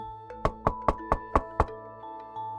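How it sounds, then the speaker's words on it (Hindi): Loud knocking in a Hindi animated cartoon, six sharp evenly spaced knocks in quick succession followed by a softer seventh, close and clear over a faint tonal music background with no talk. "तभी जोर से खटखटाहट हुई।"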